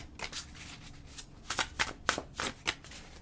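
Tarot cards being shuffled in several quick riffling bursts with short pauses between, close and crisp, no talking.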